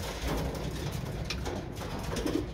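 Pigeons in a breeding loft coo softly in a few low, rounded calls against steady background noise, with no talking.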